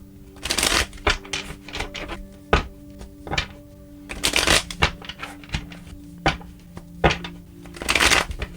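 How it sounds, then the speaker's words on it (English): Tarot cards are shuffled by hand in repeated bursts of riffling and flapping, broken by sharp taps and thuds as the deck is squared, close and fairly loud with a low steady hum underneath. "3 more shuffles and let's begin"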